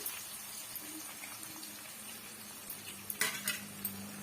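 Onions and garlic sautéing in a pan, a soft steady sizzle with occasional clinks and scrapes of a stirring utensil, fairly faint throughout.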